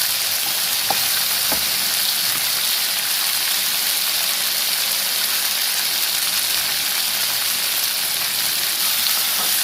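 Mushrooms frying in oil with ginger and cumin seeds in a pan, a steady close, dense sizzle running the whole time with a couple of faint clicks near the start, no talking.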